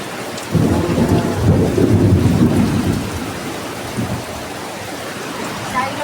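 Heavy monsoon rain over a village, with a loud rolling thunderclap that swells and fades during the first seconds, then steady close rain pattering on surfaces.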